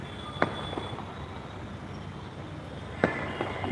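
Firecrackers burst at the Tiruvannamalai Deepam festival as two sharp, distant cracks several seconds apart, set against a steady outdoor crowd rumble.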